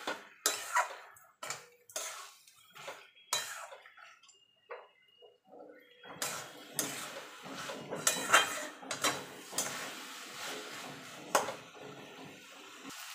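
Banana flower and prawn curry is stirred in a pan, producing irregular scrapes and clinks of a utensil against metal, moderately near, some sharp taps and longer scraping passes with quiet gaps.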